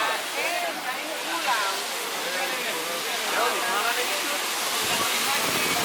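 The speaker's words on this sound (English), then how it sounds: "This is the lower waterfall." Steady rushing water from the lower waterfall in an Israeli desert canyon, a continuous broadband roar with voices talking over it.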